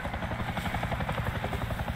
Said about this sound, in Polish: Bardzo bym chciał ten helikopter.